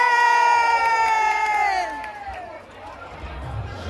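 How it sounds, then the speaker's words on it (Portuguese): A crowd at a pageant cheering loudly, with shrill voices and whoops drawn out in a sustained roar that fades and then swells again near the end. "uma salva de palmas"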